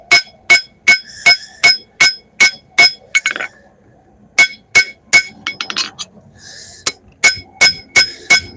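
A hammer forging a sword blade on an anvil rings out in loud, evenly spaced metallic strikes, pausing briefly midway before the steady pounding resumes.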